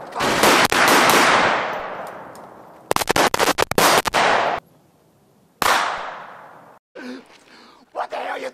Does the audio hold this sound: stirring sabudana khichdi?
no